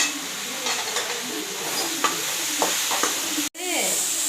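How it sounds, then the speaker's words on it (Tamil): Okra and crushed garlic fry with a steady sizzle in a pan while a utensil stirs and scrapes, giving scattered clinks through the hiss; it cuts out briefly near the end, then the frying resumes close and clear with no talking. "வெண்டைக்காய் நல்லா ஸ்டார்டிங்லேயே வதக்கிறேன்"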